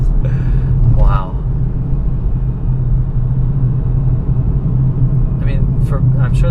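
Tesla Model S 100D electric car accelerating hard with instant torque, a steady low road and cabin rumble throughout, with people talking over it inside the car.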